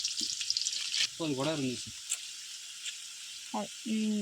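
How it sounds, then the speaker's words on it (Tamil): Onions sautéing in a pan with salt for chicken biryani give a steady broad sizzle and hiss throughout, with a few scraping stirs and brief bursts of nearby speech breaking in. "வெங்காயம் நல்லா ப்ரௌன் ஆகிற வரைக்கும் நல்லா வதக்கணும்."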